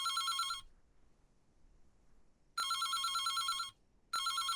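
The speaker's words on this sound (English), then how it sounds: "The phone again." An electronic telephone bell rings in the Reverse: 1999 video game, loud rapid trilling bursts separated by silent gaps, three rings heard alone.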